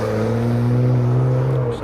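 A stock-exhaust Lamborghini Huracan engine revs loud and close, a steady deep droning roar holding for nearly two seconds, no voices over it.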